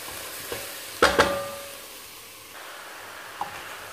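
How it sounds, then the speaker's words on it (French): Chopped winter vegetables drop into a pan of cooking leeks and onions for soup, giving a couple of sharp hissing bursts near the start that settle into a soft, steady sizzle. "Je vais pouvoir les ajouter au mélange de poireaux et d'oignons."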